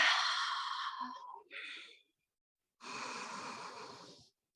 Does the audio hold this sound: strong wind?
no